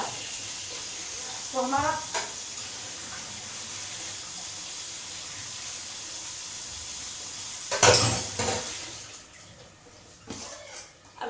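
Cold tap water runs over freshly boiled pasta in a sink, a soft steady stream with a louder splashing burst partway through, under quiet talk.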